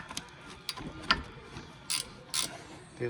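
A ratchet wrench works a rear brake caliper bolt on a Chevy Cruze during a wheel bearing job, giving off quiet, scattered metallic clicks and short ratcheting bursts with pauses between them.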